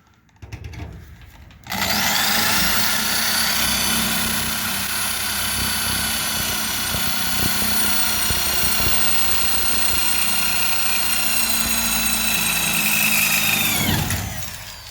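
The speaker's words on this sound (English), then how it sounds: "So I made pretty good progress drilling the holes out." A drill with a new, sharp bit bores out holes in metal sheeting on a school bus conversion. A steady, loud motor whine starts abruptly, runs for about thirteen seconds, then winds down.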